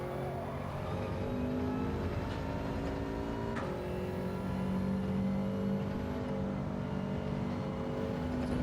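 Race car engine on the Brands Hatch circuit in the racing game Gran Turismo 7, droning steadily at high revs with shifting tones and a brief sharp blip midway, loud and continuous with no talking.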